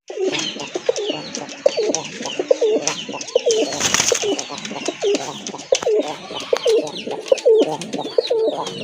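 Domestic desi pigeons coo loudly and steadily close by, several birds overlapping in rhythmic, throaty calls with faint rustling and no talk.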